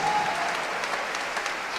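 Brief applause from a church congregation during a sermon, a steady wash of clapping heard from a distance, fairly quiet and with no talk over it.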